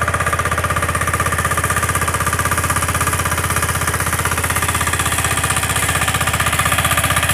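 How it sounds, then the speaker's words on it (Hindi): A Kirloskar 8 hp diesel weeder engine runs steadily up close, its rapid, even chugging loud and unbroken with no one speaking. "इसका इंजन 8 HP का है और ये चलने में बहुत अच्छा है।"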